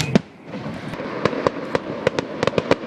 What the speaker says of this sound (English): The finale of the fireworks.